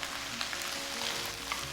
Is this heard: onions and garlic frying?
yes